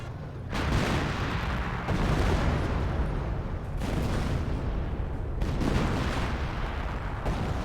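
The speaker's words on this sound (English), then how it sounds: "Here comes another creeping barrage." A creeping artillery barrage from the Company of Heroes video game rumbles as continuous heavy booms and blasts, loud and dense, with several surging waves across the stretch and no talk over it.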